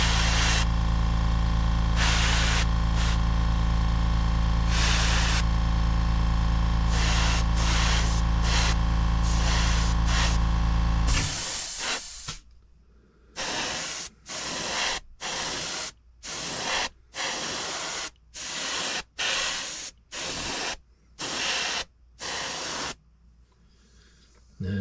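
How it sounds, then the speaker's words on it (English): Air compressor running for Vallejo paint airbrushing, a loud steady motor drone with a hum that cuts off after about eleven seconds, followed by a series of short airbrush spray bursts, evenly spaced hisses separated by silence. "I'll shut up until the air compressor quits rolling."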